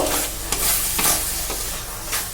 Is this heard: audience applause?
no